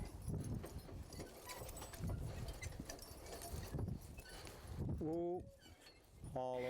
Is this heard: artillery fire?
no